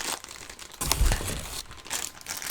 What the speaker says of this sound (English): A lot of loose stuff they have to put in plastic bags.